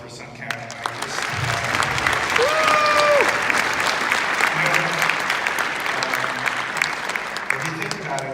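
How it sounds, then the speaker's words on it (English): An awards-ceremony audience gives a loud, sustained round of applause lasting several seconds, dense clapping close by, with a few faint voices mixed in. "can we have one more round of applause for Suncat?"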